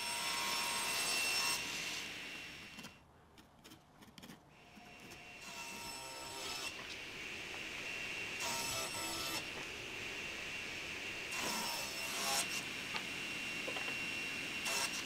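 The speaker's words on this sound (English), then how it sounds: "I'll plane one of the edges so I can make an accurate square cut through the middle of the handles." Plane run along the edge of a wooden board for sculpted vanity handles, a steady loud rushing shave that dips briefly near the start and then returns with a few sharper bursts.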